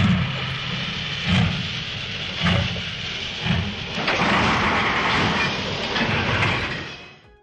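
A train sound effect rolls along with a loud rumbling rush and rhythmic clickety-clack thumps from the wheels before fading out at the end.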